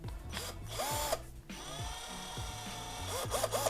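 A cheap cordless electric drill (about 500 baht) spins with a steady high whine, changing pitch as it speeds up and slows down, close and loud throughout with no talk over it.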